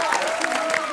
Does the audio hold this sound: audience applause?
yes